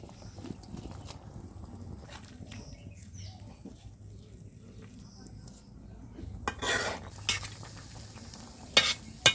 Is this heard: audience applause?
no